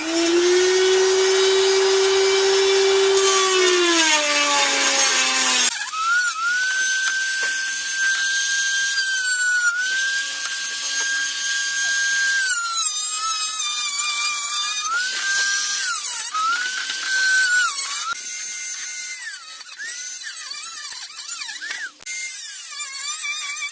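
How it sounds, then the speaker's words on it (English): Dremel rotary tool cutting parts on a Nissan 370Z, a loud, close high-pitched whine that drops in pitch under load and then holds steady through repeated cutting passes, with no talking. "I have my little Dremel that I'm going to go ahead and use"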